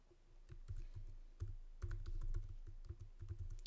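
Computer keyboard typing while entering coordinate values in Maple math software, a quick irregular run of close, light key clicks with brief pauses, no talking.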